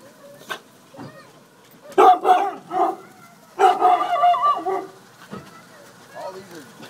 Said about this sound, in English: Oh, we got dogs.